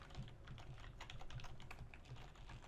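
Rapid typing on a computer keyboard, steady clicking keystrokes close up and alone, continuing evenly for a few seconds without any voices.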